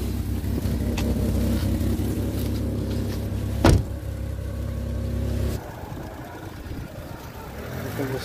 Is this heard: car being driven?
yes